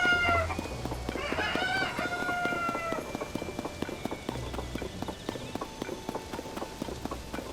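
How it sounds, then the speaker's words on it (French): Chickens in the video game Zelda Tears of the Kingdom cluck and squawk, with a rooster-like cry early on, over a steady clip-clop of hooves and light game sounds. "Tu suis les poules ou les poules te précèdent?"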